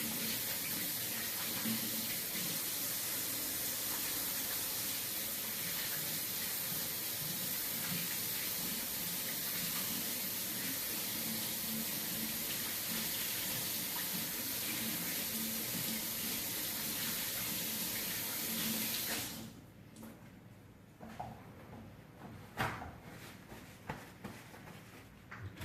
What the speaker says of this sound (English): Before I handle the marinade, I should wash my hands again to make sure that nothing causes any cross-contamination.